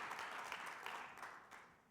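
Brief round of applause from an audience at a startup competition semi-final for a returning judge, moderately loud clapping that fades out over two seconds.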